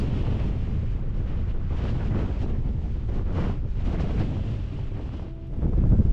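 Strong gusting wind on the 601-metre summit of Seathwaite Fell in the Lake District, a loud, continuous low buffeting roar against the microphone that surges and eases, dipping briefly near the end before swelling again, with no talking.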